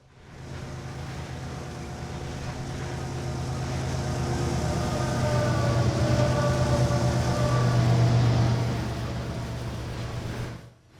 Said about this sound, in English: Led by CSX ES40DC number 5204, the train thunders by on what is now Main 2.